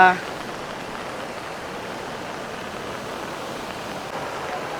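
The flooded Kasadi river after a sudden heavy downpour gives a steady, broad rushing roar that holds evenly throughout, continuous and close.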